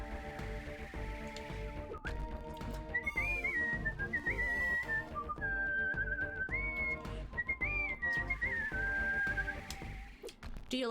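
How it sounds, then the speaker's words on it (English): A person whistles a wavering melody into a new Yeti microphone, close and clear over game music with a steady background, the tune drifting up and down for several seconds. "Do you like getting to hear me whistle with my brand new Yeti microphone?"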